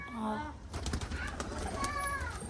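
A pigeon coos with warbling, throaty calls close by, mixed with voices chatting and bursts of rustling or wing movement.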